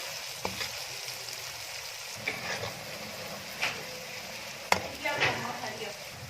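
Mungry fries in a pan with garlic and ginger paste, giving a soft steady sizzle broken by scraping stirs and a few sharp clinks of a utensil against the pan.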